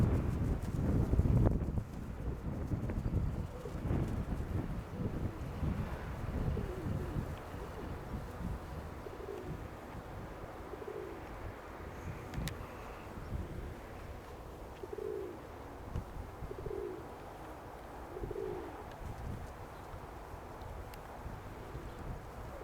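Pigeons cooing in grass outdoors, a series of soft, evenly spaced coos rising faintly above rustling and background noise, with no talk.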